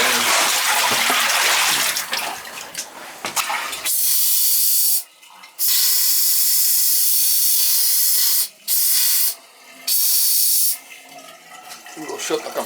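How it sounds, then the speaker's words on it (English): Compressed air blasting out of cottage plumbing lines during winterizing, a loud continuous hissing spray that cuts off and restarts several times in bursts, close and harsh. "We'll shut the compressor off now"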